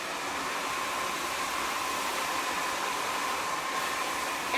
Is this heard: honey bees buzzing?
no